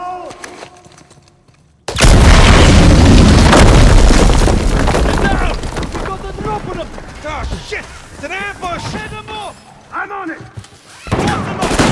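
A loud explosion booms in the Uncharted 4 video game after a quiet opening, followed by a long rumbling, crackling tail as gunfire and shouted voices break out.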